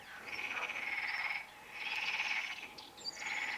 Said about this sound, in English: Is that the sound of the frogs then?